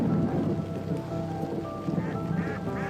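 Rain falls steadily in the Yorkshire Dales near Skipton, a close, continuous patter on surfaces with low rumbling underneath and faint scattered sounds.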